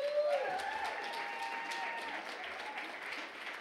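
An audience applauds to welcome the lecturer Lucy McRae at an evening lecture, steady broadband clapping filling the whole stretch, moderately loud and close, with a brief voice at the very start.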